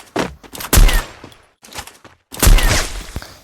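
Gunfire from a mobile shooter video game arrives as loud, sharp bursts of rapid shots in three separate clusters, each with punchy low thumps, separated by brief quiet gaps.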